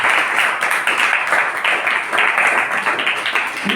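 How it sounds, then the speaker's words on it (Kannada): A church congregation claps loudly in unison during a sermon, a dense, steady, rhythmic wave of hand claps filling the room throughout, with a few voices mixed in. "ಜೋರಾಗಿ ಚಪ್ಪಾಳೆ ತಟ್ಟೋಣ."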